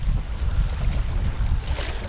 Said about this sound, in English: the wind coming directly from the north and heavy